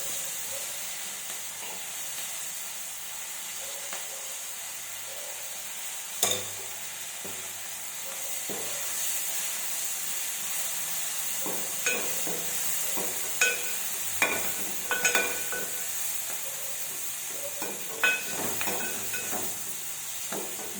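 Fenugreek leaves fry and get stirred in a pan, giving a steady soft sizzle with occasional sharp scrapes and clinks of a spoon against the pan, close and fairly quiet with no talking.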